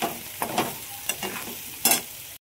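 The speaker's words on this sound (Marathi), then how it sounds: "ते मस्त आपण फ्राय करून घेऊ." Food frying in a pan with salt added, a soft continuous sizzle close by, broken by a few sharp scraping stirs.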